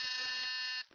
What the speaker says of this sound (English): That was again the door buzzer.